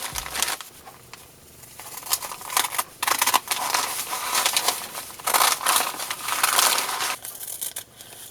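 Scissors snipping through paper bag material while cutting out shapes, a steady run of close, crisp crinkly cuts and rustles with brief pauses, loud and alone.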